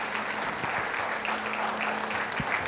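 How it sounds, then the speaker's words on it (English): A big round of applause from an audience welcoming a finance guest at a stock-market talk, a steady wash of many hands clapping throughout, moderately loud and even. "Can we have a big round of applause, please?"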